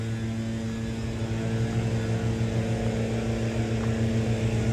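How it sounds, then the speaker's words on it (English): Leaf blowers drone in Central Park in the fall, a loud, steady engine roar with a constant low hum that fills the whole stretch without a break. "The leaf blowers are noisy and annoying."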